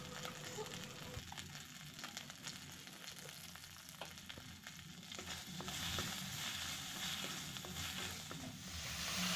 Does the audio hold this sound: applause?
no